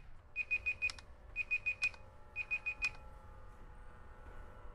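A countdown timer going off in the Skylanders Tag Team video game, three quick bursts of four high electronic beeps each, evenly spaced over a quiet low background hum.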